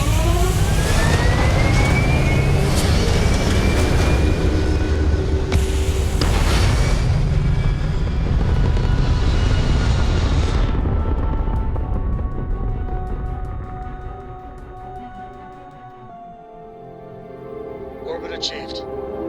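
Spaceship thrusters fire for launch in the Starfield video game, a loud, deep roaring rumble with booming bursts that holds for about ten seconds, then thins and fades into quieter engine hum.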